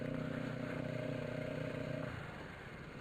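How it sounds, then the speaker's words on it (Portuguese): A Kawasaki Ninja 250 motorcycle engine drones with a steady tone that fades as it moves away, under constant road and traffic noise. "Essa motinha é bonitinha pra caramba."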